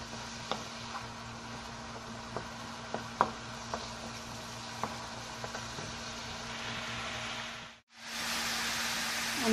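Garlic frying in a pan: a soft, even sizzle with occasional small pops and stirring taps, briefly cutting out near the end before resuming louder.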